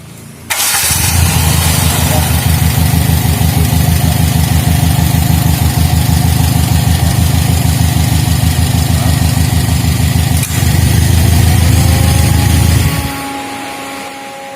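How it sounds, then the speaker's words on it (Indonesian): A car engine in an automotive school workshop cranks and catches, then settles into a loud, steady idle for over ten seconds, with a brief dip before it shuts off near the end. "Ini mesin ini cukup lumayan bagus dan mungkin bisa kita coba hidupkan."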